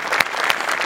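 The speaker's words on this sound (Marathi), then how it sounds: "जोरदार टाळ्या झाल्याच पाहिजे" A studio audience at a Marathi comedy show claps in loud, sustained applause. It is a dense, steady wash of hand claps with no break across the short stretch.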